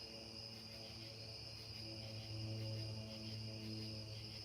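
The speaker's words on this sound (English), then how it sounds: "Can you hear my crickets?" Crickets chirp steadily at night on a porch, a dense continuous trilling chorus that holds at an even moderate level throughout with no talking.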